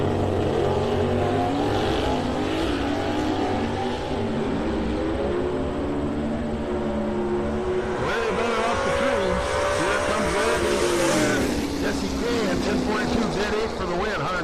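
A 1969 Chevy Nova with a big block 396 and three-pedal manual gearbox drag racing at a raceway, a sustained loud engine roar with gear changes and a pitch sweep as it runs down the track, a commentator talking over it.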